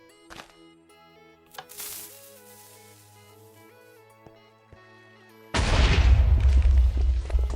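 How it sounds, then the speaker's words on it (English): Explosions blowing up trees in Minecraft Hypixel Skyblock, with a few scattered soft booms and in-game clicks, then a loud sustained rumbling blast burst near the end. "I then exploded trees for wood collection"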